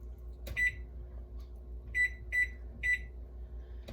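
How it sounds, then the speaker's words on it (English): A steady low microwave hum runs throughout while heating marshmallows, broken by four sharp electronic beeps, one early and three spaced close together near the end. "I wonder what's gonna happen to the marshmallows when I put them in the microwave."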